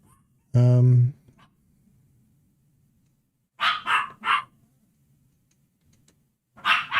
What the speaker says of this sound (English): I know they're barking quite a bit